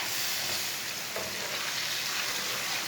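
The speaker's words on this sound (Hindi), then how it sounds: "अब इसे 2 मिनट तक भून लेंगे" Finely chopped tomato, chili and spices fry in a pan over raised heat, giving a steady, even sizzle throughout with no talking.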